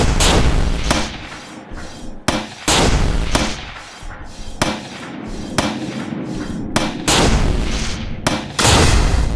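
Gunfire rings out in the Dark Dreams video game, a series of sharp, loud shots repeating at uneven intervals, each with a brief booming tail, close and with no talking.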